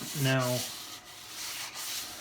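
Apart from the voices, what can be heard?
wet and dry sandpaper sanding resin with water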